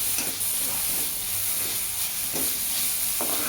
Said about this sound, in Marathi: लसूण आणि हिरव्या मिरच्या त्यात मी व्यवस्थित परतणार आहोत